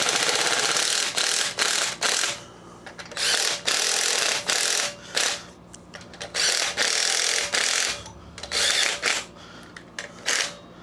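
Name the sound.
small driver removing screws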